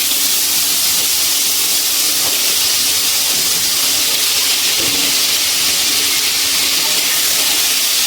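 Small potato pieces coated in salt and turmeric fry in hot oil, making a loud, steady, bright sizzle that hisses on evenly throughout with no voices.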